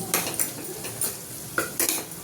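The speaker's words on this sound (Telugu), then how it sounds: "ఇదిగోండి ఇలా కలుపుకుంటున్నాను" A spoon scrapes and clinks against a pan while pepper is stirred into tomato rice with onions and meal maker, several close metallic taps over a faint background sizzle.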